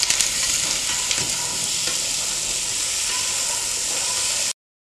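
Onions, potatoes and other vegetables sautéing in a pan for bisi bele bath, a loud, close, even sizzle and hiss with a few stirring clinks, cutting off abruptly near the end.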